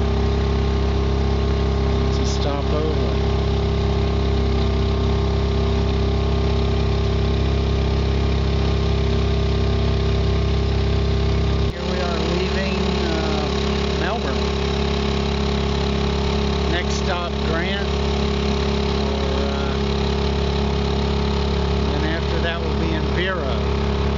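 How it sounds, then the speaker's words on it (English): A small 2 horsepower Honda outboard motor runs on a sailboat in calm water, making a steady, loud mechanical drone that fills the whole stretch, with a slight change in tone partway through. "Little 2 horsepower Honda's not really enough motor, but she's really doing her job."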